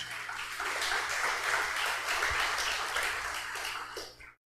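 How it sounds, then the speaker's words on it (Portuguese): A church congregation claps together in a dense, even burst of applause that holds steady for a few seconds and then stops abruptly, with no voices over it. "Dê um aplauso a Jesus."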